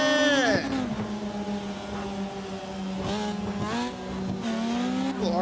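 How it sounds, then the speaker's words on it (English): A Mazda RX-7 rotary engine revving and passing at night during open practice in St. Pete, buzzing high-pitched tone with several gear changes and throttle swells, fairly close, with other engine noise and faint voices in the background. "Little RX-7 is quick"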